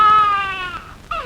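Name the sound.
taped mimicry of a baby crying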